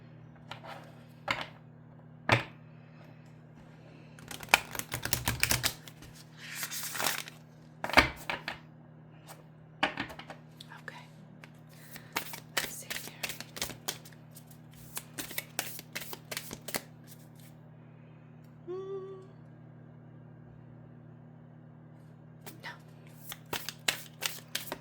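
A new oracle card deck is handled and riffle shuffled several times, crisp bursts of fluttering cards separated by taps, squaring and pauses, close and fairly quiet.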